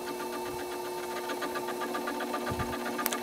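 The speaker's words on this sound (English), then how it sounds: "we are taking a pretty light cut on this. I am also running very, very low RPMs" A milling machine runs at very low spindle speed taking a light cut, giving a steady mechanical hum with faint rhythmic ticking as chips come off, fairly close and unbroken by speech.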